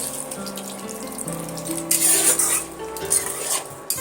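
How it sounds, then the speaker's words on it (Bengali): A small splash of water goes into a pan of potatoes fried in oil for aloo dopeyaza, setting off a short burst of sizzling hiss mid-clip over a low kitchen hum. "এবার আমি হালকা করে একটু পানি দেব একদম অল্প পরিমাণে"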